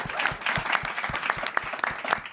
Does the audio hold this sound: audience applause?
yes